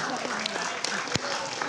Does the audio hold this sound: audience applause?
yes